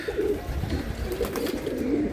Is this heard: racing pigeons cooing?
yes